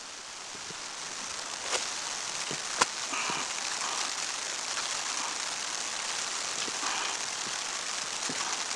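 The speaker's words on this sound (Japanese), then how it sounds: "土砂降りだ。" Heavy downpour of rain on an autumn vegetable plot, a dense, steady hiss of falling water with scattered louder drips and splashes close by, continuous and unbroken throughout.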